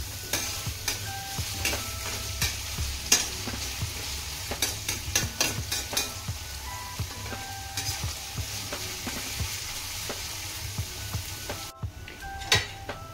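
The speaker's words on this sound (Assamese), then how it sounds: "ভালকৈ মই পিঁয়াজখিনি এতিয়া মই ভাজি ল'ম" Three large onions, chopped small, fry in a pan with a soft steady sizzle, broken by frequent sharp scrapes and clinks of a spoon stirring against the metal.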